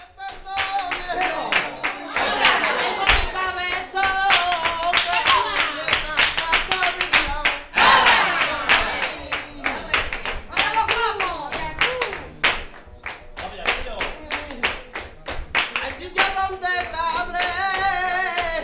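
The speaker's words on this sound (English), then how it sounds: "More than 30 gypsies, hand clapping and cheering." More than thirty gypsies clapping a driving flamenco rhythm at a lively fiesta, sharp hand claps in fast interlocking patterns with singing and cheering voices mixed in throughout.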